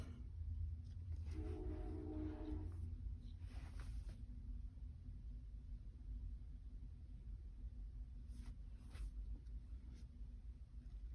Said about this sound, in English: Oh, and here comes the train.